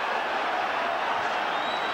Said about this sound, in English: Crowd on its feet at the Garden.